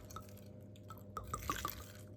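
Port wine is poured over a curl of cinnamon, making a quiet trickle with small drips and splashes near the end.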